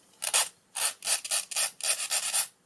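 A metal file rasps against a padlock shim in a series of short, close strokes, each a bright scraping burst separated by brief pauses.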